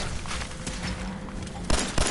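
Gunfire and explosions in the video game Fallout 4 Far Harbor: a steady rumbling battle din broken by two sharp, loud shots or blasts near the end.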